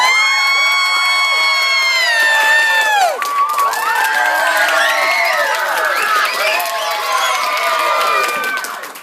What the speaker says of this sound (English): All right. Here we go. Applause, Dana.